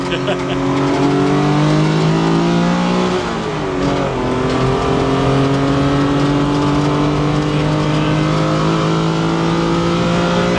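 A Lancia Stratos on track at Castle Combe revs hard toward its limit, the engine note loud and close, climbing steadily, dipping briefly at a gear change, then pulling up again.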